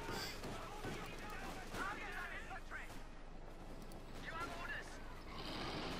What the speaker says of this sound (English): Universal Care takes some hits there from the Luchs, it's auto-cannon piercing the thin armour of the Universal Care